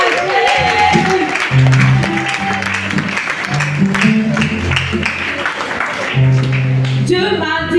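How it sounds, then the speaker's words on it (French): Congregation cheering and clapping at a Sunday celebration worship service, dense crowd noise and applause mixed with music and voices, loud and sustained throughout. "Acclame encore puissamment ton Dieu."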